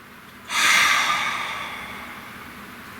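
One deep, audible breath taken close to the microphone, rising into a strong airy rush and then slowly fading out over a couple of seconds.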